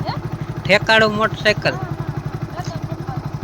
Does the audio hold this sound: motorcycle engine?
yes